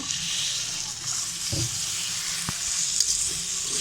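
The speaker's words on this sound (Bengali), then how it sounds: "এখন আমি 1/3 কাপ লিকুইড দুধ দিয়ে দেব।" Milk poured into a pan of sizzling vermicelli for a chilled Eid semai dessert, a steady close frying hiss with faint stirring scrapes and no talk.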